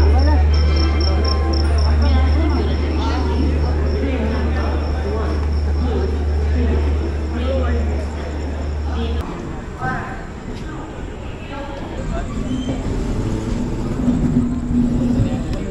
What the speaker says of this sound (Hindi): सो फाइनली यहाँ से अपने 2 के हॉल के बाद और 7 के हॉल के बाद डिपार्चर हो चुकी है ट्रेन